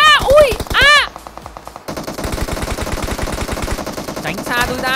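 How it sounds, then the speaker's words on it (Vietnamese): Rapid automatic gunfire in the PUBG Mobile video game, dense rattling bursts running nearly throughout, loud and close, with excited voices shouting briefly at the start. "Bắn đi, đúng rồi, bắn đi. Mày bắn đồng đội"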